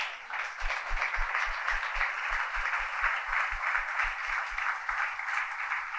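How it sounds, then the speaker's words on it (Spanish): A forum audience applauds Luis Britt after his answer at a cultural crisis and fascism panel. The applause is steady and fairly quiet, with a regular low thumping running under it for about six seconds. "Vamos a aplaudir a Luis."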